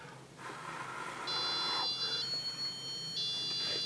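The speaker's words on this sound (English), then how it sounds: "Now the alarm will go off at 40." A homemade humidity sensor alarm sounds in repeated electronic beeps, high steady tones that start and stop in short bursts over faint background noise.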